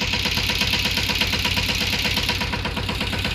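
A tractor engine runs close by with a steady, throbbing idle and a rhythmic mechanical knock, and no one speaks over it.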